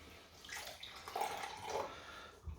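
Lukewarm water, about 50 ml, is poured into a measuring glass while a gravy for ribs is being made, producing a quiet, steady trickle that lasts a couple of seconds.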